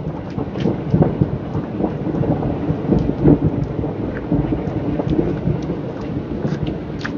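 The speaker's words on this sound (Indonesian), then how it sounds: "Awas tuh hujan." Rain pouring outdoors with rumbling thunder, a dense hiss of falling drops over low booming rolls, steady and fairly loud throughout, no voices.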